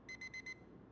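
Four quick electronic alarm beeps ring out in the theme-park building game Park Beyond, a clean, fairly faint pulsed tone over a low ambient game backdrop.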